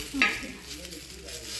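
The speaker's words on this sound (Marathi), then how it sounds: "तव्यावरती कांदा टाकून तेल टाकून परतवते" Chopped onion and oil hiss and sizzle as they are stirred on a griddle over a low flame, a brief scraping stir near the start, then a steady, faint frying crackle underneath.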